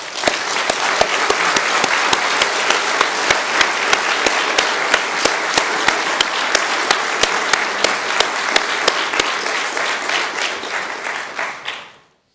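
A large church congregation applauds steadily for about twelve seconds during a sermon, a dense wash of clapping with a few sharper claps standing out before it stops abruptly.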